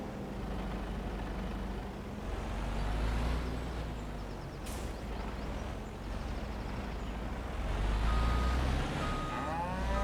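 Cows moo in Farming Simulator 25 on a Highlands farm, a few drawn-out low calls over steady machinery rumble from a tractor, with no talking.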